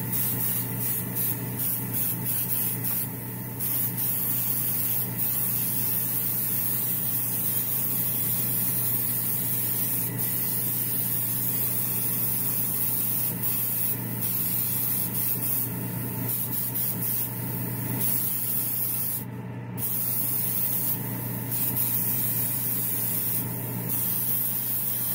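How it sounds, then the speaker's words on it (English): Primer is sprayed continuously onto a textured, muscular Batman figure build, a steady close hiss with a low mechanical hum underneath and brief pauses between passes. "I'm going to have to spray from every angle because of all the texture and the muscles and everything"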